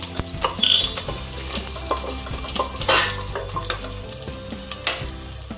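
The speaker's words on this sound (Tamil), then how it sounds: "வெந்தயம் நல்லா கொஞ்சம் ப்ரௌனாக வர்ற மாதிரி பொரியணும், கருகிடக்கூடாது" Fenugreek seeds, cumin and garlic sizzle and crackle in hot oil in a pan for fenugreek rice, a steady close frying hiss with occasional stirring scrapes and pops.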